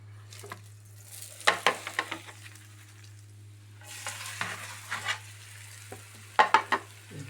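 A masala-coated egg fries in a pan, a steady sizzle broken by bursts of scraping and stirring from a utensil, with a low hum running underneath.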